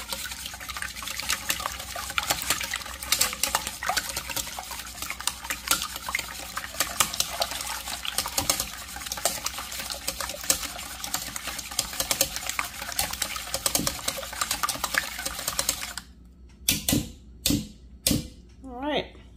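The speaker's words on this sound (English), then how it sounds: "I'm gonna whisk." A whisk beats six cracked eggs in a bowl for a curry frittata, giving a fast, steady rattling and tapping that runs for about sixteen seconds before stopping, with a few louder knocks at the end.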